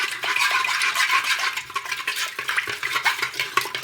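A spoon stirs a thin batter of raw rice and flour (maida) in a bowl, giving close, quick wet scraping and sloshing strokes in an uneven rhythm, with no voices.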